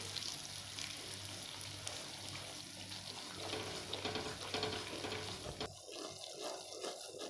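Semolina roasting in a hot pan for halwa and stirred slowly and steadily, giving a continuous close scraping and gentle sizzling hiss, ending in a few quieter scrapes.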